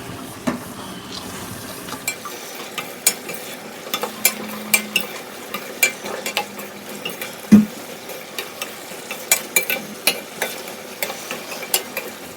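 Mutton intestine pepper fry in a pan is stirred with a utensil, giving repeated close scraping and clinking strokes over a low background sizzle.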